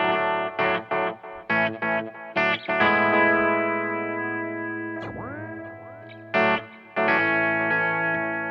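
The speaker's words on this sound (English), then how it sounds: "And you get a cool little spaceship noise." A sci-fi spaceship-like warble from an effects pedal, its delay synced to tap tempo, sweeps and curves in a sustained tone after choppy, rhythmic guitar bursts, with echo and chorus smearing; moderately loud, with no talking.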